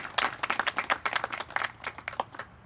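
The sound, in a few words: applause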